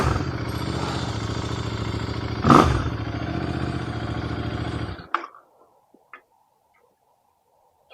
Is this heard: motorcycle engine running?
yes